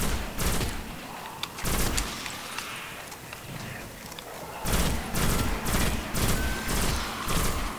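Bursts of gunfire in the Destiny video game, dense volleys of shots and impacts in two heavy stretches separated by a quieter passage of rumbling action.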